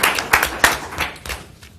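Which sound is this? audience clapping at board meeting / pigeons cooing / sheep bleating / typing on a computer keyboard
audience clapping at board meeting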